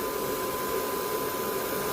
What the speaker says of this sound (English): I hit the cool shot button, which is on most blow dryers.